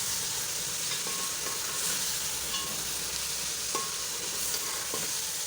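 Ginger, green chilies and fresh coriander sauté in hot oil for aloo matar pulao, giving a steady close sizzle with occasional light scrapes and stirring clinks and no talking.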